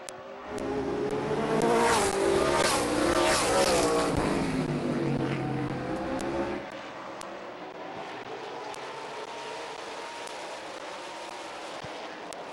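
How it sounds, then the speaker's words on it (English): Race cars at Midvale Speedway roaring past on the track, a loud swelling engine drone with shifting pitch that fades to a quieter distant hum as the pack moves away. "And here comes Bobby Page in the 67 car underneath George Riddle for that second position."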